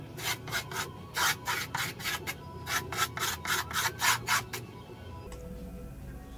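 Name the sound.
file scraping edge of skateboard griptape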